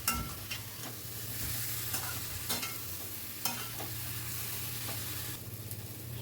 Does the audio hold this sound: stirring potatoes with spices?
yes